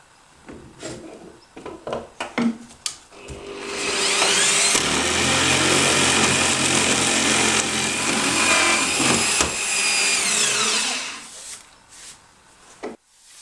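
A power router whines steadily for about eight seconds as it cuts a shape into wood, loud and continuous, with scraping and handling noises before and after.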